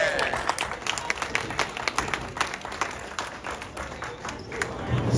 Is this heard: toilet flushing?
no